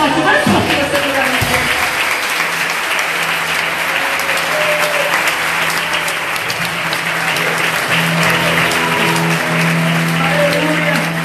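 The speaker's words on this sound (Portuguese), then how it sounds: "Aplauda bem forte, mais forte que você quiser." A church congregation in Rio Claro, SP applauding loudly during a service, a dense sustained clapping throughout with a low hum and voices mixed in underneath.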